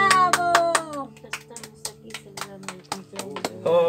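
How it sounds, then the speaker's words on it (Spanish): A family at a father's birthday celebration claps along in quick rhythmic bursts over singing and music, with the claps close and crisp and a voice joining in. "¡Aplauso, papá! ¡Bravo!"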